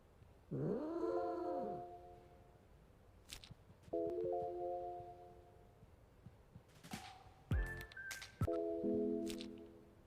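A cartoon cat in the video game Avatar World gives a whiny meow, then several shorter tonal game-style mews and chimes with clicks between them, moderately loud against a quiet background.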